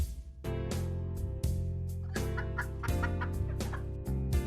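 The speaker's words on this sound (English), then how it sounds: "And we've got the first chicken sound." Chicken clucking sound effect from a Godot game test scene, several sharp repeated clucks over steady background music, clear and close.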